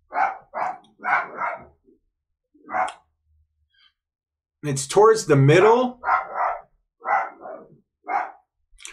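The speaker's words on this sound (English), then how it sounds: "forgive the barking. That's just my dog outside." A dog barks repeatedly in short bursts, somewhat distant, while someone speaks in between and over the barks.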